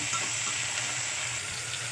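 Tomatoes frying with salt in a pan for a Tamil kuzhambu, a steady close dense sizzle and hiss throughout with no break.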